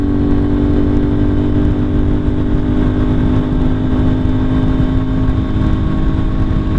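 A Lifan KPR 200 motorcycle with an aftermarket exhaust rides along with a loud, steady engine drone and constant wind roar, holding an even pace throughout.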